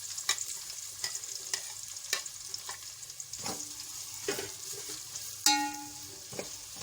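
Onions going into hot oil with whole garam masala in a cooking pot, sizzling and frying steadily, with a few sharp spoon clinks and stirring scrapes scattered through.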